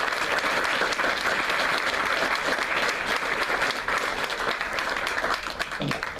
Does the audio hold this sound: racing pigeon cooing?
no